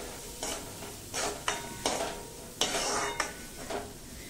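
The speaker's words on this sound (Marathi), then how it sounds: "आता हे बटर छानपैकी मेल्ट झालंय, याच्यामध्ये आधी कांदा परतून घेऊया।" Onion sautéing in melted butter in a pan for a restaurant-style veg manchow soup, a steady sizzle with repeated bursts of stirring scrapes, close and moderately loud with no talking.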